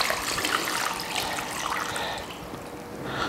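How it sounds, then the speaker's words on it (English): Water is poured into a pot of organic coconut cream and rice, a steady close trickle and splash running continuously for a few seconds with no talk over it. "now we'll put 3 cups of water"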